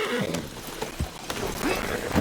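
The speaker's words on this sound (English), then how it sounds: "Load Anders onto the back of your horse there, and we'll take him to Sheriff Gray." Horse in Red Dead Redemption 2 whinnies amid scattered clopping hoofbeats, a short burst of game animal sound over a busy, noisy background.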